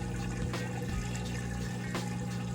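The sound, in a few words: Maytag Bravos XL washer water during rinse cycle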